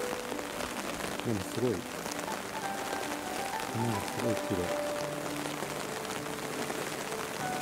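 Steady rain patters on surfaces across the Gifu World Rose Garden, a soft continuous hiss beneath a voice talking.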